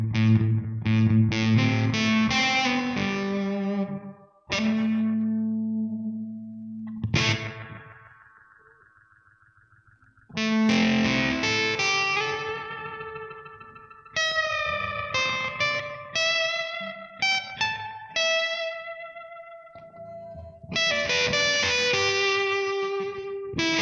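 Electric guitar through an MXR Classic 108 Fuzz pedal rings out in thick, saturated chords and single notes, loud and buzzing with rich overtones, sustained notes decaying into short pauses before the next bursts of fuzz.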